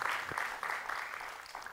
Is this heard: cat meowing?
no